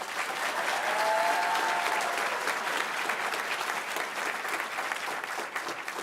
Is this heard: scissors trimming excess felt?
no